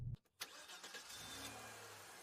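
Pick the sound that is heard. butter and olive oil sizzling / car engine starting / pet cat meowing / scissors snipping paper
car engine starting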